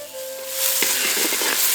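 Masala of tomatoes and onion sizzles and crackles in a hot pan, a steady hiss with occasional stirring scrapes, close by.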